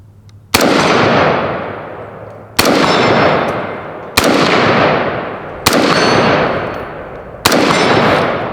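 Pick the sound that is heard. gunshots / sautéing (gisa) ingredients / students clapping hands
gunshots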